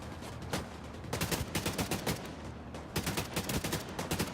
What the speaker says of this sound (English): The suppressing fire, the smoke grenades,